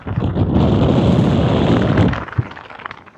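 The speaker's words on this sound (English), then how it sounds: "it is fairly windy" Loud gusts of strong wind at a mountain campsite buffet the microphone in a rumbling roar for about two seconds, then ease off into scattered thumps and quieter rustling.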